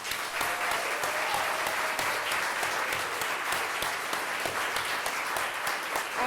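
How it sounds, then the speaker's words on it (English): Sustained applause from an audience honoring refugee storytellers and poets at a cultural center, continuous even clapping at moderate level with no voices over it. "another round of applause for the incredible people who shared their stories"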